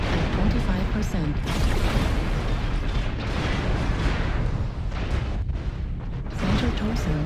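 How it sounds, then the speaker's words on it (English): Dense, continuous gunfire and booming missile launches and explosions rumble through a flight combat video game, loud and unbroken, with a voice talking over the battle. "Okay, who's up there shooting at me?"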